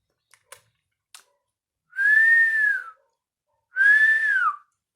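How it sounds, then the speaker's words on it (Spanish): A person whistles two sustained, slightly arching notes, clear and close, preceded by a few soft clicks from a body-sound demonstration. "También podemos hacer un sonido al silbar."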